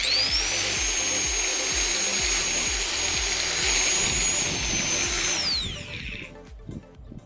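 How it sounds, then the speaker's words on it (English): An angle grinder fitted with plastic zip ties spins as a mini lawn trimmer, a loud continuous high-pitched whine with rhythmic thrashing through grass, then winding down at the end. "You'll get a mini lawn mower for trimming grass."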